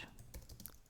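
A command typed on a computer keyboard in a Linux terminal: a short, quiet run of soft key clicks at close range, with no speech.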